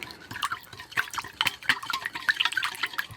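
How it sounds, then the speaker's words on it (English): Sea salt being stirred into water in a mixing container to dissolve it, giving close irregular sloshing and light clinking splashes in quick succession, with no talk. "Mix it up till it's dissolved."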